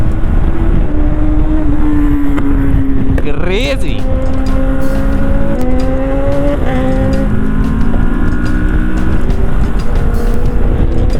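A Kawasaki Ninja sport motorcycle roars past on a Sunday group ride in Mumbai, its engine note climbing and then dropping through a loud, close flyby over steady road and wind noise, with a brief spoken remark.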